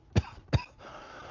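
Two quick coughs, a fraction of a second apart, are heard close and clear. A faint steady hum follows.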